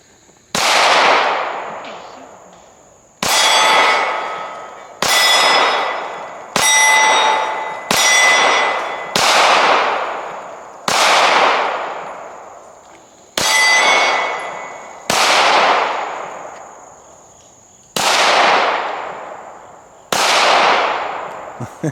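Pistol rounds from a Walther PDP Pro SD Compact striking steel targets at an outdoor shooting range, about a dozen loud, sharp metallic clangs spaced a second or two apart, each ringing out and decaying before the next.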